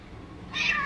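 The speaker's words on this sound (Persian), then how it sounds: "گربه ها رو" A cat meows once, a short bright call rising out of quiet background hum near the end.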